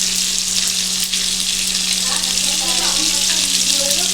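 Continuous sizzling of shrimp wrapped in pumpkin leaves frying in a covered pan, close and steady, with a faint low hum and light scraping underneath.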